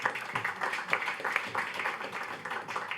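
Audience applause for a speaker at a French conference on innovation in overseas territories, a steady moderate clapping from a room of people lasting throughout, without a break.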